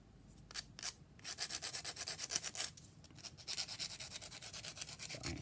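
Quick, rhythmic rasping strokes of a file against the edges of a paper junk journal embellishment, in short bursts with small pauses between, close and fairly quiet.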